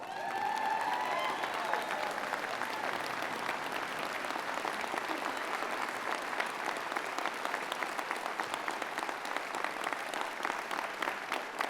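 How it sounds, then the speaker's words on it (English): Sustained applause from a large audience at a university fall convocation ceremony, steady and dense clapping filling the hall for the whole stretch without fading. "Let's give them a round of applause."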